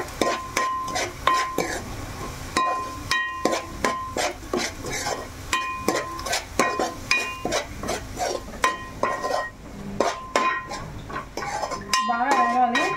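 A spoon stirs and scrapes a spicy chilli-seasoned dish frying in a metal pan, with steady rhythmic clinks and scrapes over a soft sizzle, close and fairly loud.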